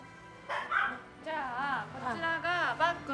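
A small dog in Tokyo gives short barks and yips mixed with high whimpers in close, uneven bursts that fill a few seconds.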